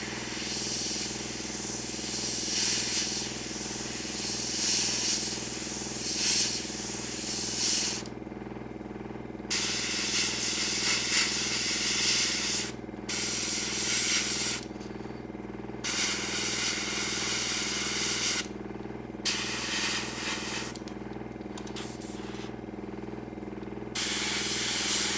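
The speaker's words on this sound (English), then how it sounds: "the old compressor is struggling, that's for sure" An old, struggling air compressor drones steadily while an airbrush sprays model paint in repeated hissing bursts of several seconds, each cut by short pauses.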